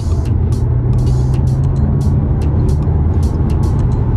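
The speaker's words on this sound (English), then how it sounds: "You can hear the electric motors like whirring up" Electric motors whirring inside an Alfa Romeo Tonale hybrid in E-hybrid mode while driving, a steady close hum blended with road and cabin rumble throughout, with no talking.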